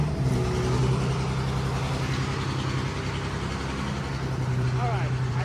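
BMW F80 with a cheap Chinese turbo kit running on a dyno at cold start with the wastegate open, a steady rough low drone under continuous talk.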